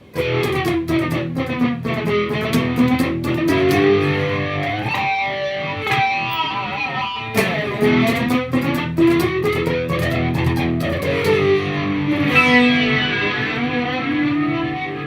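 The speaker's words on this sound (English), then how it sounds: "so you can get some cool flanger tones in here too, some spacey stuff" Electric guitar played through the flanger of a Sonicake 5th Dimension mini pedal with drive kicked on, giving a continuous spacey, jet-like swooshing sweep over sustained distorted chords and riffs, loud and steady throughout.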